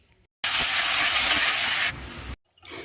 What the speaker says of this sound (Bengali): তো তেলের মধ্যে এলাচ, লবঙ্গ, দারুচিনি, ফুল, আর তোমার কালো জিরে ফোড়ন, আর পেঁয়াজ 1 চামচ, বড় চামচের 1 চামচ দিয়ে ভালো করে একটু কষে নিচ্ছি।